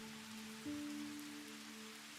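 Soft, steady rainfall hisses quietly through Stardew Valley gameplay, a continuous gentle patter with a few faint sustained tones beneath it and no speech.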